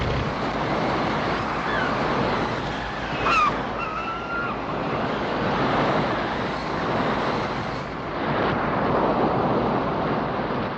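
Heavy surf roars continuously with gusting wind, waves surging and breaking in a rough, unbroken wash on a high sea in 1962.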